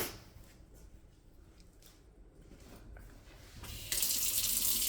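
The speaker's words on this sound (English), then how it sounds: "Water in the sink." Water running from a faucet into a kitchen sink, a steady close hiss that swells noticeably louder near the end as the flow increases.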